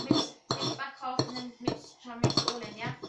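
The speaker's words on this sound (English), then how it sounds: "So get the garlic on there and just mix it back off" Garlic stirred into food in a pan, with clattering clinks of a utensil against the pan in short bursts between stretches of a voice.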